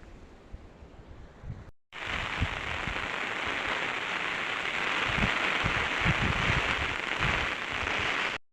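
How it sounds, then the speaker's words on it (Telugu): Dense, steady roar of heavy cyclone rain pouring down, briefly cutting out early, then continuing loud and unbroken with no voices. "మరి వర్షం అయితే బీభత్సం వర్షం పడుతుంది"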